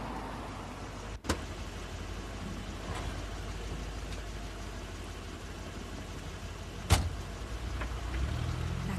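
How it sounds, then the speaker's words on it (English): A car engine hums steadily as the car pulls up and idles, with a couple of sharp clunks along the way. The engine swells slightly toward the end, and no one speaks. "That's Crane's car"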